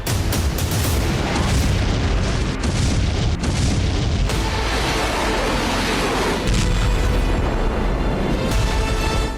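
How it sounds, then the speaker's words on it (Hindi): Heavy shelling explosions on Ukrainian front lines form a continuous loud barrage of deep booms and bursts, dense and sustained throughout with no voices. "यूक्रेनी मोर्चों पर बारूद बरसाया गया।"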